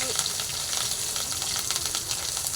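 Fish roe from a rohu fish fries in a pan with salt, a steady close sizzle with light crackling and faint stirring, briefly and without talk.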